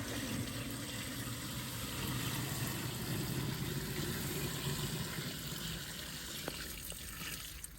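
Water is poured into a pickling jar packed with peppers, carrots, parsley and garlic, a steady, rushing pour held at an even level for several seconds, with a couple of faint clinks near the end.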